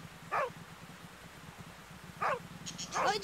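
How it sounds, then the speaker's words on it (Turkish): A small dog gives three brief yelping barks with whimpering tones, spaced apart over a quiet low rumble, the last one longer and more drawn out. "Bu köpek sesi de nereden geliyor?"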